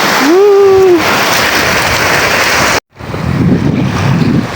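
Waves wash and roar continuously along a beach shore at Kalanggaman Island, Palompon, Leyte, with heavy wind buffeting the microphone; a short whistle-like tone rises early, and the sound briefly drops out.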